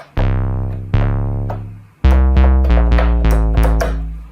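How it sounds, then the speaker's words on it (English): Square wave synthesizer bass in a classic grime style, playing a few sustained, buzzy harmonic-rich notes with sharp attacks, then a quicker run of stabbing notes, loud and alone with no voices. "the sound I'm going to use is going to be a square wave synthesizer"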